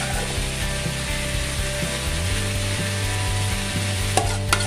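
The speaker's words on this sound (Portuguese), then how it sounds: "Tô fritando ali um franguinho pra acompanhar" Chicken pieces frying in a skillet, a steady close sizzle with scraping and stirring clatter from a utensil against the pan running throughout, plus a couple of sharper knocks near the end.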